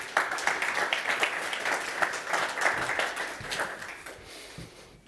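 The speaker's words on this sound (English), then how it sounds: "Applause for Raphael and Sodex." A conference audience at an investment pitch session applauds a startup speaker arriving on stage, a dense clapping wash that swells early and slowly fades over about five seconds.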